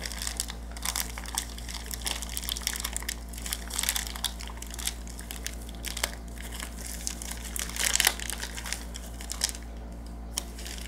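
Paper crinkling and crumpling as a mystery package is opened, a run of close, sharp crackles and rustles in irregular bursts, with a steady low hum underneath and no talking.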